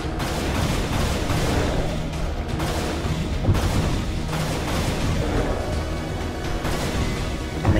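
Rocket launcher fire in the Unreal video game, heard as a dense, continuous wall of booming blasts and explosive rumble that stays loud for the whole stretch.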